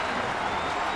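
Steady applause and crowd noise from a baseball stadium crowd of about 43,000 at a 2009 Indians game, a dense, even wash of clapping with no distinct voices standing out.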